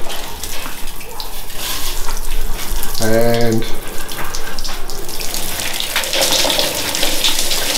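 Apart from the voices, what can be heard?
shower running from a fancy tap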